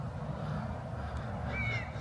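Crows cawing outdoors near a baseball outfield, with a single drawn-out call rising clearly near the end above steady low background rumble and ambient noise.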